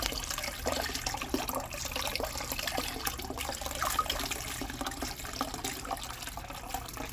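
Water pours and splashes continuously while tumbled rocks such as agates, jasper and petrified wood are rinsed, a steady close wash with no talking.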